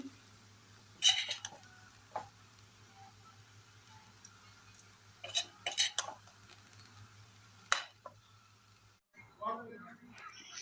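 A spoon scrapes and clinks against a pan while egg rice made with three eggs is stirred, giving a few sharp intermittent metallic clatters over a low steady hum, with talk in between.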